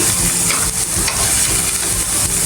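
Paneer frying in a pan for a paneer pulao, a close, continuous sizzle and crackle of hot oil with faint stirring scrapes, no talking.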